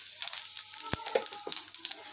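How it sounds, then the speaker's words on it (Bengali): Whole cumin seeds frying in hot oil with bay leaf as a tempering, giving close, sharp crackles and pops in an irregular patter over a light sizzle, with no talking. "তো একটু ফোড়নটা ভাজা হয়ে যাক"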